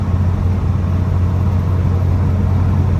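A 1949 Ford Prefect E493A with a three-speed gearbox drives along, its engine a steady, loud low rumble with no breaks.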